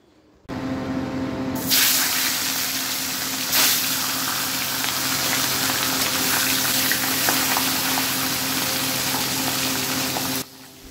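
A fish head frying in a wok throws up a loud, steady spitting sizzle that starts suddenly, runs unbroken for about ten seconds with a couple of sharper bursts, then stops abruptly.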